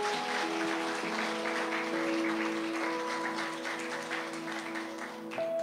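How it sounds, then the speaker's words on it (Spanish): A Catholic church congregation applauds, a steady, moderately loud mass of clapping sustained for several seconds beneath a held organ or keyboard tone, with no speech. "Un aplauso a Jesús."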